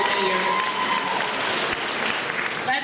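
Applause from an audience at a kindergarten recognition day in an elementary school, honoring award-winning students; a continuous burst of clapping throughout, fairly close and full.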